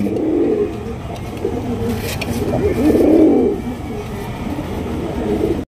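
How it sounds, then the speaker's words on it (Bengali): Oriental pigeons, a rare Red Spangle pair, coo in low, rolling, repeated calls close by in a bird market setting, steady over a background hum with no speech. "ডাক গুম গুম।"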